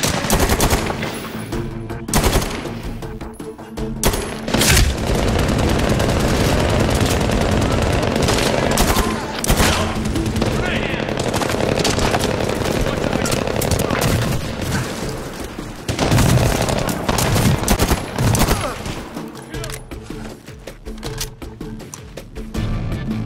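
Rapid gunfire in the military shooter game Medal of Honor Warfighter: loud sustained automatic bursts mixed with heavy booms and sharp single shots, continuing with brief lulls throughout, with faint voices talking over parts of it.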